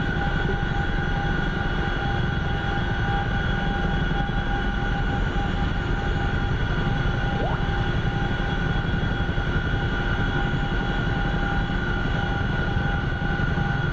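An aircraft engine drones steadily as the plane taxis slowly in the DCS flight simulator game. The loud, unbroken hum has a fixed tonal whine and no talk over it.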